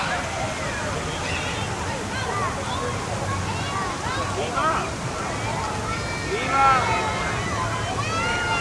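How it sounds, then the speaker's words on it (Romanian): Children splash in water at an outdoor park in Chicago, a steady wash of sloshing and trickling with scattered higher shrieks and a crowd's babble beneath, fairly loud and continuous throughout. "Copiii să bălăcesc în apă."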